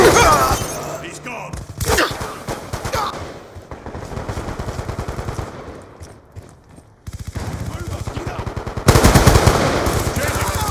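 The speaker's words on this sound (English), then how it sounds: "Shoot her down!" Sustained machine-gun fire in Call of Duty Black Ops 2 rattles in fast bursts with shattering impacts, pausing briefly before resuming, loud and close with in-game voices shouting over it.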